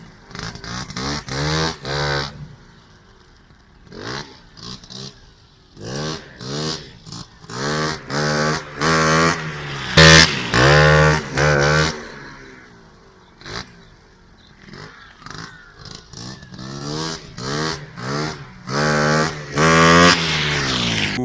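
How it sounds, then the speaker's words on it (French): A moped engine starts and runs lean on a badly adjusted carburettor, with a loud, close, uneven two-stroke buzz and a raspy intake sound that surges and dips in repeated bursts of revving. "je vais démarrer la mobilette et vous allez bien entendre le bruit qu'elle fait"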